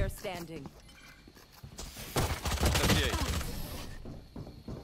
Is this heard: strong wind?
no